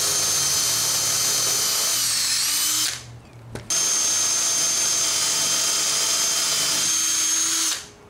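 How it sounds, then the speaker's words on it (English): A power drill boring a hole in wood whines steadily, cuts out briefly, then runs again for several seconds before stopping; loud and close, no voices. "I started the hole with a little drill bit because I don't want this big guy to wander"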